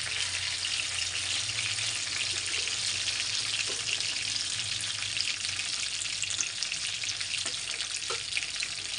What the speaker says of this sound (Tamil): கருவேப்பிலை ஃப்ரை, கருவேப்பிலை கறி லீஃப் ஃப்ரை.